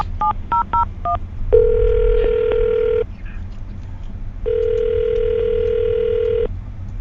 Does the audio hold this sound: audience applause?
no